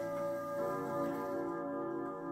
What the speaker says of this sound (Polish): Zegar MS Bell z wahadłem sekundowym, pięciostrunowym gongiem,